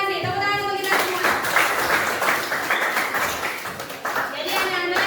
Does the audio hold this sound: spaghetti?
no